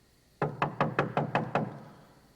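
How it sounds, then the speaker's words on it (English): Six sharp, evenly spaced knocks on a house's outer entrance door ring out close and clear with nothing else around them, then fade into quiet. "Peter knocked at the outer entrance"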